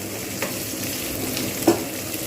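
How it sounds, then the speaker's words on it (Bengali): Onion fries in a pan for mochar ghonto, Bengali banana flower curry, a soft continuous sizzle with a couple of brief stirring clinks, no talk. "পেঁয়াজটাকে আমি কিন্তু ভালো করে ভাজবো"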